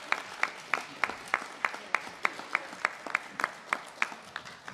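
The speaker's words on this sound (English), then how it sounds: "First grade, please clap for Bridget Kozarowski." A small audience at a Pennsylvania school event claps in a steady, rhythmic beat, about three evenly spaced claps per second, moderately near and fairly quiet.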